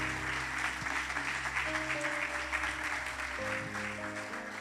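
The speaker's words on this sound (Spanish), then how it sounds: "Vamos a darle un fuerte aplauso al Señor." A church congregation applauds together, a steady wash of many hands clapping for several seconds, fairly faint and even, with a low hum beneath and no talking.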